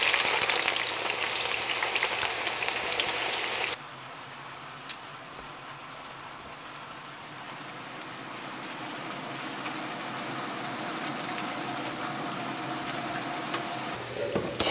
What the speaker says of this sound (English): Now I'm gonna start frying my onions and potatoes.